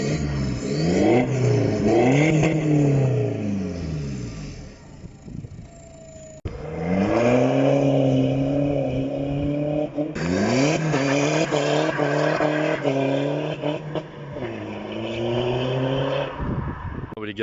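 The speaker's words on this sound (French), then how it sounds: "Là, on va se faire 2-3 petites accélérations tranquilles, hein." A tuned BMW 1 Series 120d diesel at Stage 2+ (250 hp, 500 Nm) revving hard through several accelerations, the engine note rising and falling in long loud sweeps, close and continuous with short pauses between pulls.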